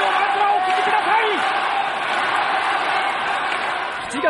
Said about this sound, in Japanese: 今ゴング大歓声の両国国技館、この大歓声をまずはお聞きください